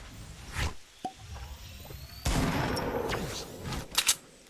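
Video game gunfire: a few sharp shots with bursts of rapid fire, fairly loud and close, including a dense stretch in the second half, with some knocks and thuds and no speech.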